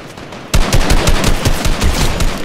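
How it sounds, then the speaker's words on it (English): Rapid bursts of automatic gunfire from Fortnite players shooting at each other, starting abruptly after a quiet moment and then rattling on loud and dense with repeated volleys. "Oh, they might be shooting each other now."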